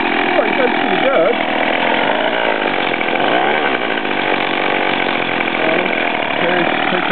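A small weedwhacker engine fitted to a motorized bicycle runs steadily, a loud, buzzing two-stroke drone close by, with people talking under the noise.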